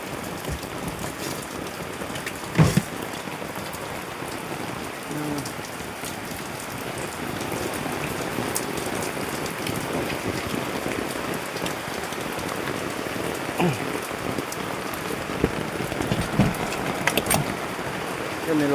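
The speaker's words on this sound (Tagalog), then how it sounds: "Umuulan na dito sa loob ng bahay ko." Steady rain patters continuously on a house, dense and even, with a few louder drips and knocks scattered through.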